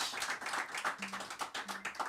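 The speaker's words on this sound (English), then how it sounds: "Give her a big round of applause, everybody." Crowd clapping after a live singer-songwriter set at a small Iowa venue, a dense patter of hands with a few louder individual claps standing out, continuous and close, with no talk over it.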